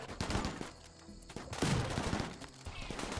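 Turrets and attackers trading gunfire in a chaotic Rimworld battle, with loud bursts of rapid shots, brief lulls and renewed volleys.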